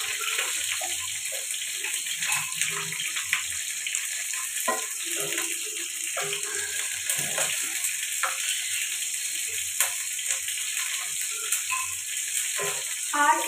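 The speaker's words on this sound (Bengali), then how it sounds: "তো আমি এখানে গোবিগুলো দিয়ে দিয়েছি, এগুলো হালকা একটু ফ্রাই করে নিতে হবে।" Cauliflower florets frying lightly in a pan make a steady, soft sizzle and hiss that never lets up, with faint scraping and stirring knocks over it and no voices.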